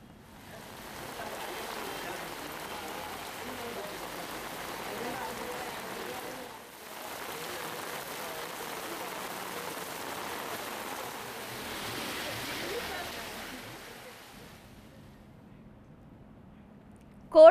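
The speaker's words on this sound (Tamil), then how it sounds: "பலத்த மழை பெய்தது. இதனால் வெப்பத்தின் தாக்கம் குறைந்து பூமி குளிர்ந்து சாலையில் மழைநீர் பெருக்கெடுத்து ஓடியது." Heavy rain pours steadily in Erode, with rainwater running along the road, a dense continuous hiss that briefly dips midway and fades out near the end.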